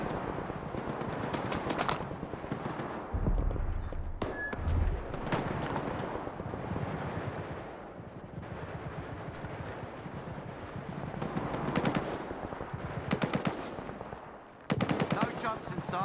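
Sustained automatic gunfire from the shooter video game Stalker 2, with dense machine-gun bursts and scattered single shots rattling continuously and loudly throughout, alongside wind-like background noise.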